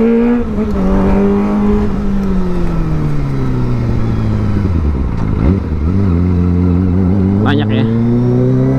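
A loud Kawasaki ZX25R sport motorcycle engine drones close by, its pitch sinking and climbing as the throttle changes, with a short high squeak near the end.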